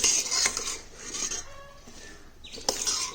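Turkey berries soaked in buttermilk are stirred in a vessel at close range, giving irregular scraping and light clinking strokes with a quieter pause in the middle.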